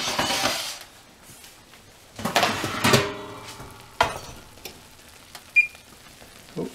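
A plant-based apple crisp bubbles and sizzles fresh from the oven, with soft crackling bursts, a few clinks of dishes and cutlery, and quiet kitchen handling sounds between.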